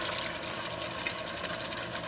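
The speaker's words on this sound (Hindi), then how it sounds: "पानी डाल देंगे" Water poured into a cooking pot holding partly cooked chicken and rice for pulao, a steady continuous splashing and trickling close by with no talk.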